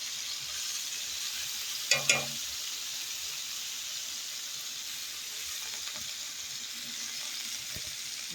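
Garlic and other ingredients sizzle steadily in a hot skillet, a continuous close frying hiss with a brief clatter of stirring near the start.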